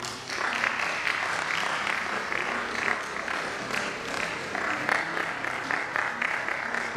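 An audience at an annual registry lecture applauds a named guest, a steady wash of many hands clapping throughout, moderately loud and continuous in a hall.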